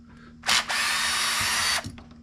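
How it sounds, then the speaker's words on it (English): A power drill whirs loudly for just over a second after a short burst, removing motor screws on a drone, then cuts off, close up with no talking. "Because you can take a drill."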